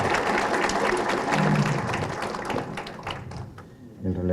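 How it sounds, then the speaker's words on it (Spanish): Audience applause at a panel discussion on transparency and anti-corruption, moderate clapping mixed with a murmur of voices, tapering off toward the end. "Un aplauso, por favor."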